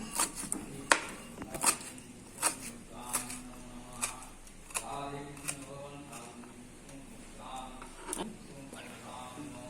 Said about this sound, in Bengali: ধনে পাতাটা কুচিয়ে নিচ্ছি।